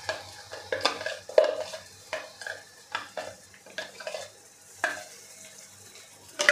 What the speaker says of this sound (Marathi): आता हे सगळं आपल्याला तेल सुटेपर्यंत परतून घ्यायचं आहे